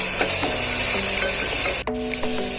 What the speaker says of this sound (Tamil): தக்காளி நல்லா வதக்கிக்கலாம்